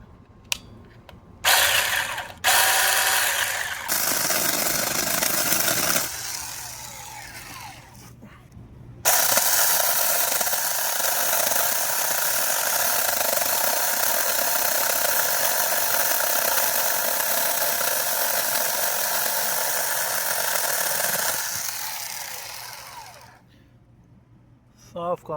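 A 6-inch cordless mini chainsaw cuts through small tree branches in a backyard, a loud sustained motorized whine running steadily for most of the stretch after a few short bursts, then winding down near the end.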